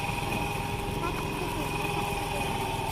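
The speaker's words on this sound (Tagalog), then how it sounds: "Ayun, may motor pa rin yun." A small motorcycle engine runs steadily at idle near a dried-up riverbed, a continuous buzzing drone at low level with a faint background murmur.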